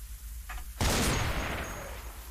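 One gunshot in the zombie survival game Cataclysm DDA: a sharp, loud crack after a brief click, trailing into a noisy decay over about a second and a half.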